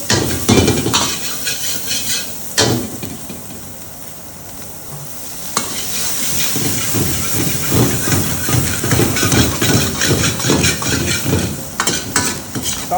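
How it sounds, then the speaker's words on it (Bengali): Onion and capsicum sizzle loudly as they are stir-fried in a pan for mixed fried rice, with steady frying hiss, scraping stirs of a utensil and a few sharp clanks against the pan. "সেই মিক্স ফ্রাইড রাইস দেখুন চলে গেল পেঁয়াজ ক্যাপসিকামটা চলে গেল দেখুন"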